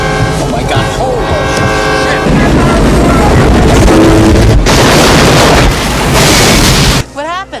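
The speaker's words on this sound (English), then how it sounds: "They caught a train." Train horn and rumbling train from the action movie Eraser, a loud, dense movie soundtrack scene with sustained horn tones over heavy crashing noise, ending abruptly with quieter sweeping effects.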